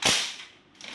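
A KWC Mini Uzi 6mm CO2 airsoft submachine gun fires one sharp, close crack that decays quickly, followed by a fainter click near the end, with no talk.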